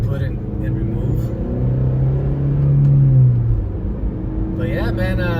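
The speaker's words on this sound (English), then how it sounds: "the VTEC engagement is a lot louder than usual" A 9th-generation Honda Civic fitted with a test pipe exhaust rumbles low, its engine note swelling and holding midway before easing off, then a brief rising tone near the end.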